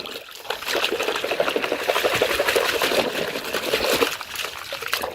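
Muddy toy vehicles being washed in a tub of water, with steady splashing and trickling that runs close and continuous throughout.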